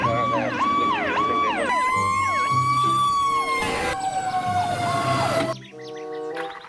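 A toy fire truck siren wails loudly and close in rapid rising and falling electronic sweeps mixed with beeping tones, then breaks off into a shorter patterned toy sound near the end.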